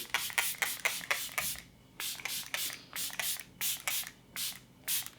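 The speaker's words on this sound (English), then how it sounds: "Okay, let's do a little bit of spray." A run of short hissing sprays of makeup setting spray, about ten quick bursts in uneven clusters, close up with no talking.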